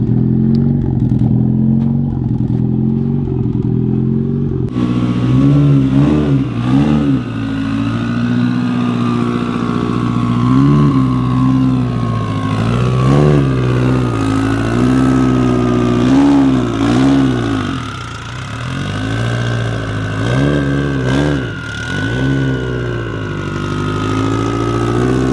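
A Subaru STI hatchback engine with a big cam revs loudly up close, a lumpy idle rising into repeated throttle blips and sustained revs, with no talking.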